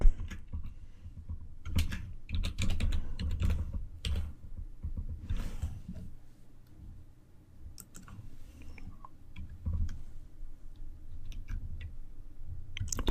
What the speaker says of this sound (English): So to begin, we type in the HTML,